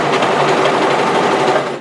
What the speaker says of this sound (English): just make sure you go slowly so your overlocker blade doesn't break